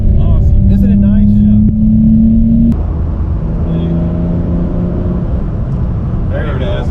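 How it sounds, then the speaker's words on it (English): A carbureted Targa's engine runs steadily with a low, droning hum close by, the pitch shifting partway through, while people talk over it. "But how do you enjoy the carburetor sound? Oh, it's awesome. Isn't it nice?"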